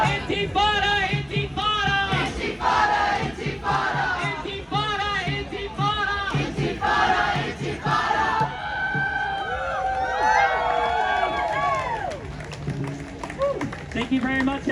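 Protest crowd at a Mardi Gras march chanting in rhythmic unison and cheering, many voices loud and close, with shouts, whistles and clapping mixed in and the chant breaking into looser cheers toward the end.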